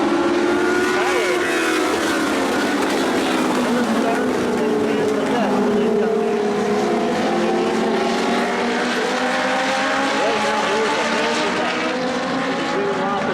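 Legends race cars lap a short oval track at Evans Mills, a loud, sustained engine drone whose pitch rises and falls as the cars pass through the turns, with a voice faintly underneath.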